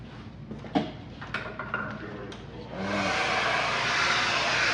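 A hair dryer fitted with a diffuser, set to medium heat and medium flow, starts up and blows a steady, even whoosh for its final seconds, after some brief knocks and handling noises.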